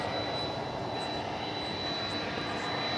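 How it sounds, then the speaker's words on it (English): A UPS jet airliner at DFW Airport at night gives a steady, broad engine roar with a thin high whine on top, distant and unchanging, with no other sounds over it. "That is UPS Flight 793. It's off to Louisville, Kentucky."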